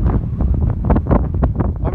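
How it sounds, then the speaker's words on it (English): Loud, steady wind roars and buffets against the microphone on an open mountain plateau near Big Bear Lake, California, as a storm rolls in, a constant low rumble with gusting bursts and no voices. "watching the storm come in. And it's windy as fuck"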